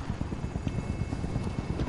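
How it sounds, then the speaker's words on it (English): A helicopter in a multiplayer shooter game thumps with rapid rotor beats over a steady low rumble, loud and close with no talk. "He's getting the helicopter."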